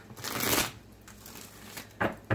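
Tarot cards are shuffled in a few quick riffling bursts, close and crisp, with short pauses between them and no talking.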